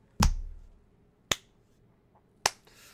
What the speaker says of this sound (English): I'm gonna give you guys a slow clap, clap for that